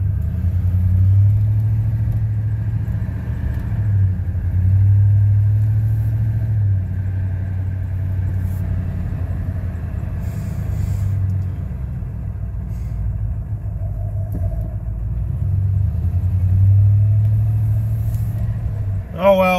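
A 1999 Ford F-150 pickup idles steadily after startup, a deep, even engine rumble that runs close and loud throughout, with faint talk and small clicks late on.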